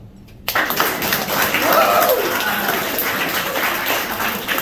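An audience at a Montreal open-mic comedy club bursts into applause. The clapping starts suddenly after a brief quiet, then holds as a steady, full roar of many hands with a few shouts mixed in.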